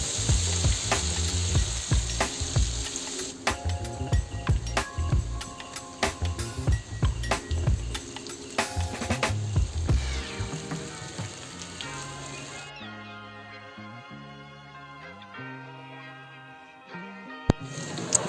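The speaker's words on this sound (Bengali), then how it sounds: "তেলটা গরম হয়ে গেলে একটা একটা ফুলকপিগুলো তেলের উপর দিয়ে দেব এবং ভালো করে ভেজে নেব।" Cauliflower pakoras fry in hot oil, a steady close sizzle with light clinks and stirring that carries a cooking clip; the frying hiss continues throughout at moderate loudness.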